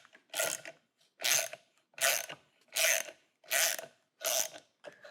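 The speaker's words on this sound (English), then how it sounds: "take a deep well socket and finish it up" Deep well socket ratchet tightening a 9/16 prop nut on a Minn Kota Ultrex Quest trolling motor: six evenly spaced ratcheting strokes, each a short burst of rapid clicks, close and clear against silence.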